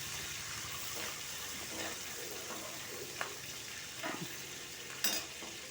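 Curry leaves fry in a pan for a papaya curry with peas, a steady soft sizzle throughout and a few sharp pops and crackles near the end, no voices.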